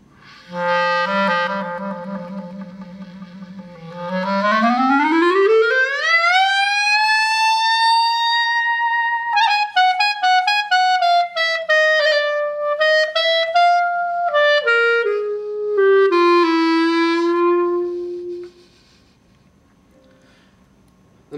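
A clarinet trills low, then sweeps smoothly upward in a long glissando to a high held note, as in the opening of Rhapsody in Blue, followed by quick runs descending back down.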